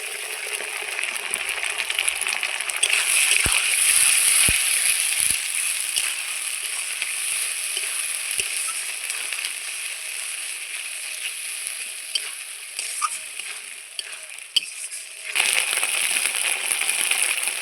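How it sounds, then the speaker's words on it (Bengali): Ground ginger, cumin and dried chilli paste frying in a pan for a big brigade fish kalia, a steady bright sizzle running throughout, with a few sharp spatula knocks early on and a louder burst of sizzling near the end. "এইবার আমি বেটে রাখা আদা, জিরা আর শুকনো লঙ্কা"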